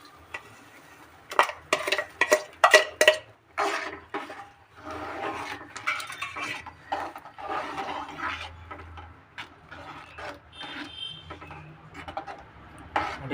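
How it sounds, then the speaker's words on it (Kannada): Roasted semolina being stirred into boiling water in a pan for North Karnataka style kesari bath, with repeated scraping and clattering of a spoon against the pan, bursts of busy strokes early on, then steadier mixing, fairly close. "ರವೆನ ಹಾಕ್ಕೊಂಡು ಚೆನ್ನಾಗಿ ಮಿಕ್ಸ್ ಮಾಡ್ಕೊಳ್ಳೋಣ."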